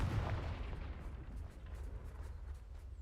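The Confringo blasting spell detonates in a Harry Potter video game: a deep, rumbling explosion that booms loudly at first and then rolls on as a sustained low roar for a few seconds, with no voices.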